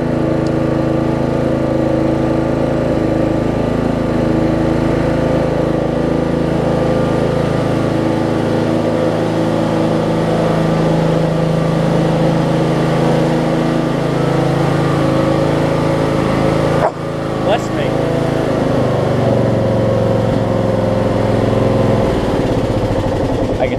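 A Craftsman LT1000 riding mower with a hard-starting engine runs steadily while being driven, a loud, continuous droning engine hum that barely changes for the whole stretch.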